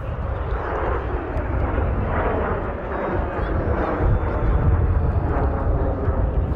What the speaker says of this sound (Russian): На самолетах Л-39 российские асы готовы показать настоящий пилотаж.